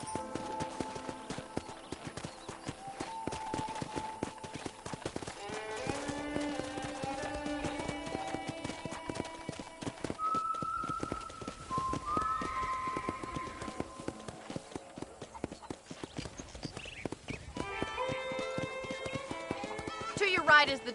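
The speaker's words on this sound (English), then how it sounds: "let's see if you can still ride a horse" Horse hooves clip-clop in a steady rhythm while riding in the Red Dead Redemption video game, with whinnies and game music over it and voices talking through much of it.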